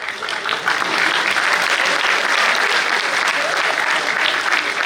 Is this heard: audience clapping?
yes